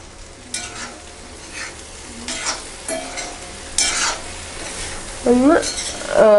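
Ripe banana pieces with sugar being stirred in hot ghee in a pan for Kerala-style pazham varattiyathu, giving a loud close sizzle with repeated spoon scrapes and a brief metallic squeal near the end.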